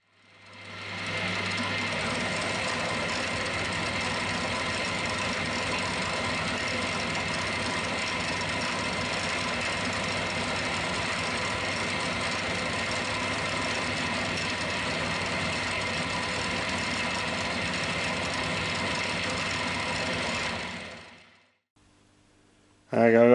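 A radius cutter mills rounded corners onto a small metal vice part, a steady, loud whirring machine drone that ramps up, holds evenly for about twenty seconds, then spins down to quiet before another burst starts.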